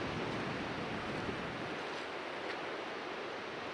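Surf washes onto an empty Scottish beach as a soft, steady broadband rush, faint and continuous, with light wind and no voices.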